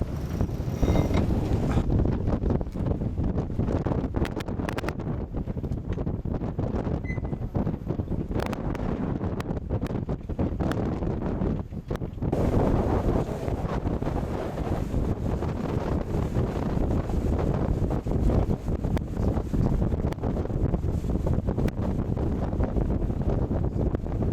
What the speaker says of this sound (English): You'll hear a little wind.